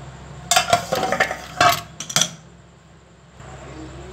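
Clattering metal clinks and scrapes as a lid is lifted off a cooking pot holding a baking eggless cake, a few sharp knocks in quick bursts, then quiet hiss.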